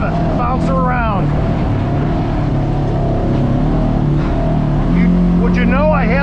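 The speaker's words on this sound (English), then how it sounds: "I want to ride this 181 horsepower RZR Trail" A two-wheel-drive Polaris RZR Trail side-by-side with 181 horsepower climbs a hill on a 50-inch trail, its engine droning loud and steady close by throughout, with a few short squeaks and rattles over the rumble.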